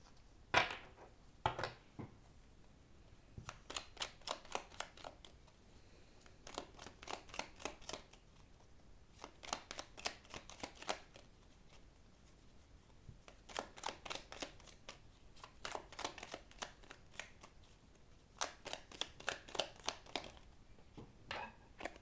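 Tarot oracle cards are shuffled and drawn in repeated quick riffling bursts, each a rapid flutter of card edges separated by short pauses, close and fairly quiet.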